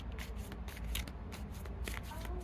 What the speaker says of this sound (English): at least we're getting a good shuffle